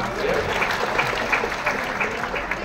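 Dense crowd applause rumbling continuously, with a brief spoken word at the start.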